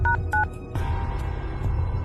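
A mobile phone is dialed, giving two short, clear keypad tones in quick succession near the start, then a steady background hum for the rest.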